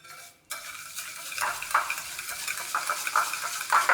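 Sugar, coffee powder and water are mixed together for whipped dalgona coffee, making a brisk repeated scraping and whisking clatter close by after a brief quiet start; no speech.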